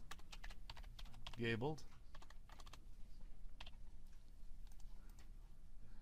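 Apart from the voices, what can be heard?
typing on a computer keyboard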